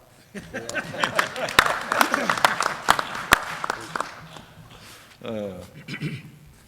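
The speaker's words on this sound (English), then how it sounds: "You can applaud." An audience applauds at a public pension policy panel, scattered sharp claps rising into a brief round under a speaker's voice, then fading as talk resumes.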